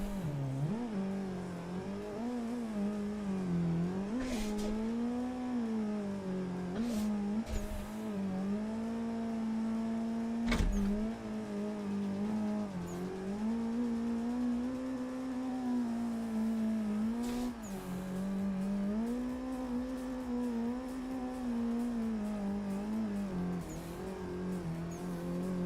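Car engine revving hard and sustained during an IRL pro drift session, steady loud drone with pitch swells and dips as the throttle is worked, plus brief sharp bursts, continuous throughout.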